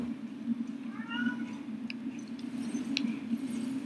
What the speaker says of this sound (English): My cat's trying to destroy my house again.